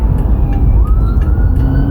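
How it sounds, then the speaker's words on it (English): An ambulance siren wails behind a car in slow traffic, its wavering tone partly masked by heavy, loud road and engine rumble. "now there's an ambulance behind me"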